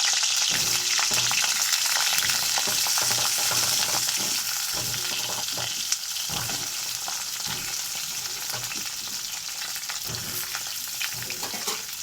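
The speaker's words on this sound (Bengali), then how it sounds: "তো আমার তেলটা গরম হয়ে গেছে, পটলগুলো তেলে ছাড়বো লাল লাল করে।" Pointed gourd (potol) pieces frying in hot oil give a steady, dense sizzle that runs for the whole stretch, with occasional soft stirring knocks underneath and no voices.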